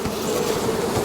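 Honeybees in an opened hive give off a dense, steady buzz, close and fairly loud, a continuous droning hum with no voices over it.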